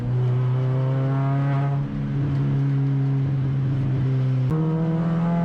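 A Fiesta Junior race car engine drones loud and close from onboard on a safety car restart at Croft, holding a steady high pitch, dipping briefly, then climbing again as the driver accelerates.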